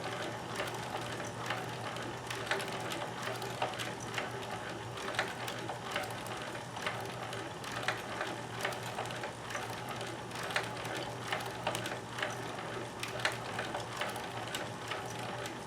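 A Singer 72W19 hemstitching machine sews slowly along curves, giving a continuous mechanical clatter of ticking, ratchet-like stitches at an even rhythm, close and moderately loud throughout, with no voices.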